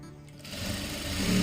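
Sewing machine stitching the main cloth of an umbrella-cut long frock, starting after a brief pause and running as a steady, close mechanical whir that grows slightly louder.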